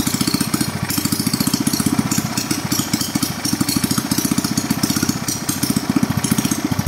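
A Zanma 160 gasoline engine runs close by with a fast, steady chugging pulse and a rattling mechanical drone that holds evenly throughout, with no talk.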